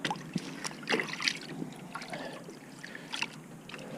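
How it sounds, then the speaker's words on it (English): Freshly caught mullet being dipped and rinsed in a 5-gallon pail of water, close splashing and sloshing with irregular handling knocks and trickles, moderately quiet. "Then we dip them in the water,"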